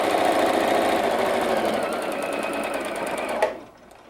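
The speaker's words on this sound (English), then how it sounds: "We're going to start at the point and sew our 1/4 inch seam to the outside." A sewing machine stitching a quarter-inch seam on quilt block pieces, running at a fast, even mechanical patter that is loud and close, then stops abruptly near the end.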